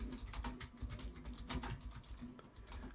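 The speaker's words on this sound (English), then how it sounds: "You might be hearing the typing noise." Continuous typing on a computer keyboard with rapid, uneven key clicks and taps at close range, steady throughout against a low background hum.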